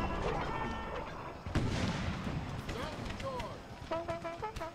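Cannons boom in a Civil War strategy video game, a heavy blast landing mid-clip over rumbling battle noise, with scattered sharp reports and a brief musical or bugle-like tone near the end.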